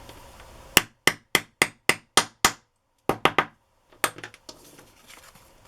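A hammer repeatedly strikes to set a metal eyelet through paper against a setting plate, a fast run of about eight sharp, close taps, a pause, three more, then lighter scattered knocks.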